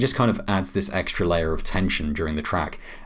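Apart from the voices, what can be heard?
No distinct noise like a dog, phone or traffic.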